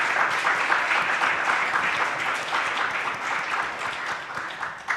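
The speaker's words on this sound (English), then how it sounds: "So a big round of applause for yourselves," An audience at an academic conference claps steadily for several seconds, a dense patter of many hands that tapers slightly toward the end.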